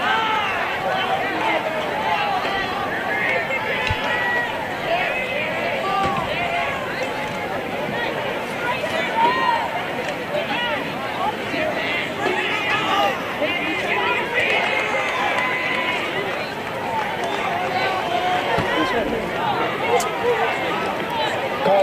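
Varsity high school football crowd at a Farmington Knights versus Ritenour Huskies game, a steady broad roar of chatter and booing-like murmur from many spectators, moderately loud and continuous throughout with no single voice standing out.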